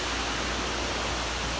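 Water pours steadily into a honey extractor in a honey house, a constant broadband rush like a faucet filling a metal drum, moderately loud and unbroken with no voices.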